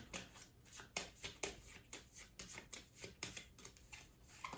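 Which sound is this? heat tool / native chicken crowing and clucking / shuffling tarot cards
shuffling tarot cards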